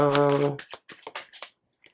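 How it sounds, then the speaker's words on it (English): A deck of tarot cards is shuffled in a few quick, close riffling bursts after a short voiced sound at the start, then falls quiet. "I'm just going to shuffle to see if there's any last minute things"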